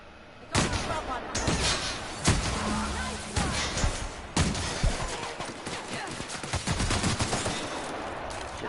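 Gunfire in The Outer Worlds, a rapid series of loud, sharp shots and bursts in close succession, some irregular and some clustered, with brief gaps between volleys.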